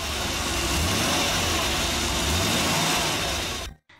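The 5.3-liter V8 of a 1970s Aston Martin Lagonda revs hard, close and loud, holding a sustained roar with rising and falling pitch before it cuts off abruptly near the end.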